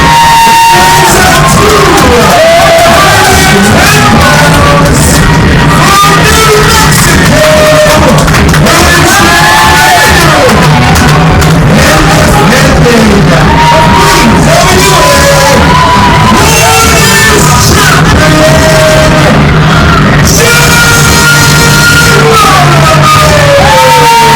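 A wrestling crowd at a 3WA Carnage show shouts, whoops and cheers loudly and continuously, with overlapping yells rising and falling throughout.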